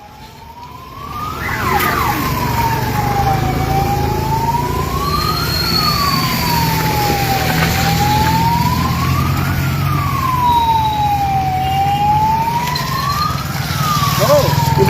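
Ambulance sirens at a Kanchanjunga Express crash site near New Jalpaiguri wail in repeated loud rising-and-falling sweeps, sustained over a dense background of crowd murmur and engine rumble.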